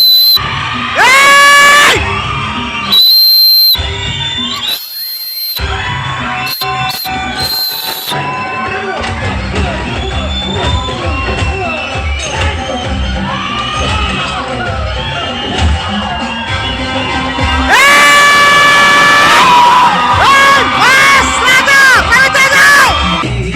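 Movie theater audience whistling, shouting and cheering for a hero's entry, loud bursts of shrill whistles and crowd yells coming and going over film sound, rising again strongly toward the end.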